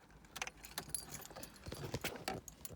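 Keys jangle and rattle close by as the ignition is switched on in a classic MGB Roadster under restoration, a busy cluster of light metallic clinks lasting a few seconds with no talking.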